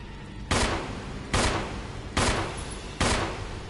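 Gunfire in the survival horror video game Resident Evil Remake: four loud, booming shots spaced almost evenly about a second apart, each with a short decaying tail, and no talking.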